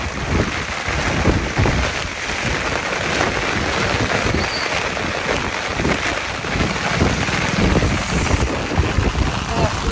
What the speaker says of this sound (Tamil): மழைங்க, சரியான மழைங்க, ஃபுல்லா நனைஞ்சாச்சு